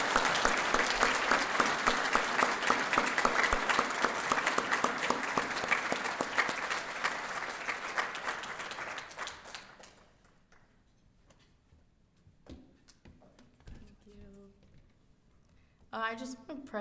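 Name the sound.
audience applause for Sarah Lira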